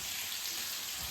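Seer fish frying in a pan in a home kitchen gives a faint, continuous hiss of sizzling oil, soft and steady with no voices.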